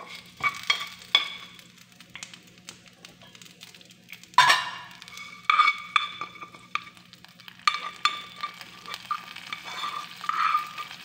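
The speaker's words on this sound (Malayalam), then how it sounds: "കറിവേപ്പിലയും ഉണക്കമുളകും കൂടി ചേർത്ത് കൊടുക്കാം." Curry leaves and dried red chillies sizzle in hot oil while being stirred for a ripe-plantain pulisseri, a steady crackling fry broken by sharp scraping stirs and pops, close and without talk, over a faint low hum.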